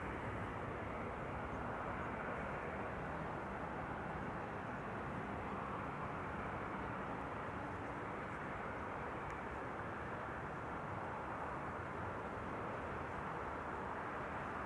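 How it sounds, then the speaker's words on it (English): A Boeing 747 crosses the runway after landing at Schiphol, heard as a faint, steady, distant engine rumble and hiss that holds level throughout, with no talk. "the landing 747 in the meantime is quickly traversing the runway"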